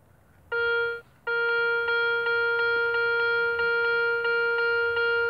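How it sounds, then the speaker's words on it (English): A Garrett metal detector sounds over a buried target while metal detecting in the UK: a loud, clear tone, a brief gap, then a sustained tone that pulses rhythmically, close up with no talking. "Being a Garrett, obviously it beeps"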